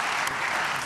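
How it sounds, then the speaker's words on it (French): A short burst of audience applause at an ESN & ICT awards event in France, a dense, steady patter of many hands clapping. "recevez encore à nouveau les applaudissements du public que vous pourrez transmettre à votre équipe"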